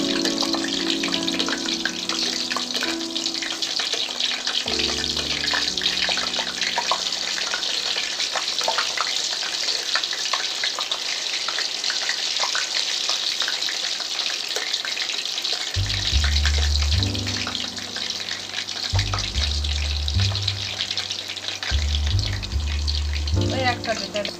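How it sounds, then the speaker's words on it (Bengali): A spiral potato frying in hot oil, a loud, continuous bubbling sizzle close by, with a music track playing underneath throughout. "তেলটা গরম হয়ে গেছে আমি এবার তেলের ভিতর এটা দিয়ে দেবো"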